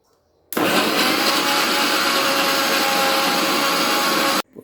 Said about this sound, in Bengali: এখানে ব্লেন্ড করব।